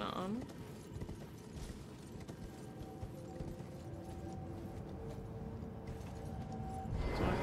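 Horse hooves clop in Elden Ring, a soft repeated trot running steadily beneath game ambience, fairly faint and mixed with other in-game sounds.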